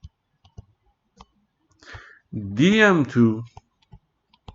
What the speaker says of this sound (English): I'm gonna exactly type in MATLAB